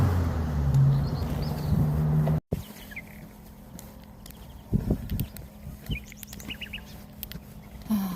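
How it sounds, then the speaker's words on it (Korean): Faint, high bird chirps come in short scattered bursts in the distance, over passing traffic rumble and a few nearby knocks, on a quiet stretch of the Camino de Santiago between León and San Martín del Camino, Spain. "이제야 새소리가 들리는 한적한 곳입니다."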